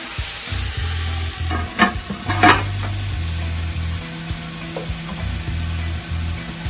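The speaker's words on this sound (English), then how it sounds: "So this is my oxtail browning up." Jamaican-style oxtail browning in a pot, sizzling steadily as it is stirred, with the scrape of a spoon against the pot breaking through the constant fry.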